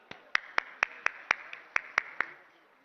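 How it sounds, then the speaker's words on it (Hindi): Clapping for the Chief Minister at an iftar gathering: about ten crisp, evenly spaced claps in a slow steady rhythm, fairly faint and close, then a short quiet tail. "मैं चाहूंगा कि जोरदार तालियों में हमारे हरदिल अजीज सीएम साहब का इस्तकबाल हो"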